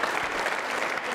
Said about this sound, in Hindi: उमा जी के लिए तालियां जोरों से बजाइए।